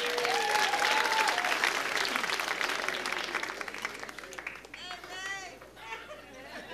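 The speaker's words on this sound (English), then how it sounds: "Give him a round of applause." An audience applauds loudly with cheering and whistles mixed in, the clapping thinning out toward the end as crowd chatter continues.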